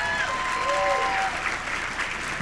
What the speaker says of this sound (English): Can we give one more round of applause for Deanna?